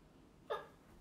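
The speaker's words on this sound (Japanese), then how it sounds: "くしゃみ止まらないわ。" A single short sneeze from a young woman bursts out abruptly and fairly close, then trails off into quiet room noise.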